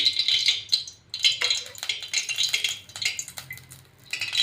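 Two ladlefuls of oil going into a cooking pot on a gas stove, with busy metallic rattles and clinks from the ladle against the pot, close and fairly loud, broken by brief pauses.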